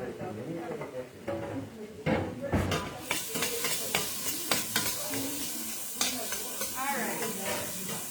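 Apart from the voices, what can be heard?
vegetables sauteing in a pan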